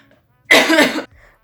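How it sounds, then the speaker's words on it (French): A single short, harsh cough up close, alone in an otherwise quiet room. "c'est une toux non covidée que j'ai là"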